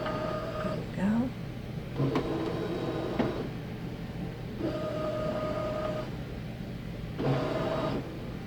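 An embroidery machine tracing a design in a SewTech 6x10 magnetic hoop makes a series of short whirring motor movements and tonal beeps with pauses between, fairly quiet over a low hum.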